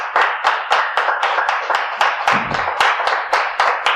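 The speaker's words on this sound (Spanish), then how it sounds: "Dele ese fuerte aplauso, papito Dios" Rhythmic unison clapping in a church service, loud sharp beats at a steady quick tempo, about four per second, close and without talk.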